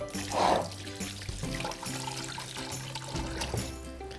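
Kitchen tap water runs and trickles over raw chicken being washed for a ginger chicken stew, with a brief louder splash early on over a steady background hum.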